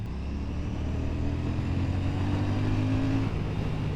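A Royal Enfield Shotgun 650 motorcycle rides along country lanes with a steady, close engine drone and a rising tone near the end, heard alone with no talk.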